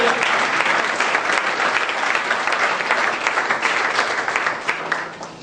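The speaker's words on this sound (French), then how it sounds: "tu vas acclamer le Seigneur" A church congregation bursts into sustained, loud applause and cheering, steady and dense throughout, acclaiming the Lord.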